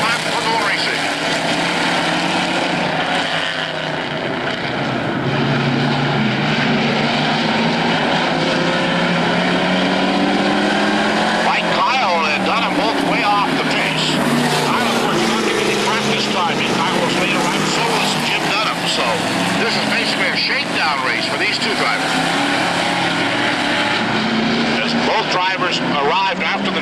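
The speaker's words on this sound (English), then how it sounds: "green flag down, one more time for 10 quick laps for Gold Racing" Stock car field of Chevrolets and Fords roars off at the start of a 10-lap race, a loud sustained engine drone building and shifting as the pack passes, with an announcer talking over it.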